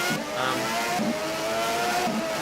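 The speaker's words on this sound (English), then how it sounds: "that BMW engine sounds really rough" A BMW Formula E race car passes with a steady high electric whine layered over tyre and track roar, loud and close throughout.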